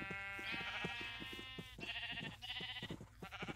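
Repeated sheep bleats from Minecraft's ChainWorld game, several wavering calls in quick succession, loud and close with a short pause between bursts.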